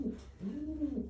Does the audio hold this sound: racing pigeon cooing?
yes